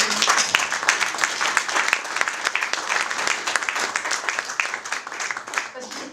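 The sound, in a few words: audience applause for the association's young members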